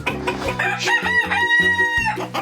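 A rooster crows loudly and close in a long harmonic cock-a-doodle-doo, with clucking hens around it in a farmyard where eggs are gathered from nest boxes; no talk.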